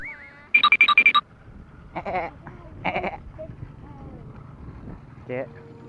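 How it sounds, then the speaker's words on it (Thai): Sheep on a small farm bleat in a quick burst of several wavering calls near the start, then a few more scattered cries, with people talking and moving around close by. "มาเบิ่งแกะกันแกะตัวจริงเสียงจริง"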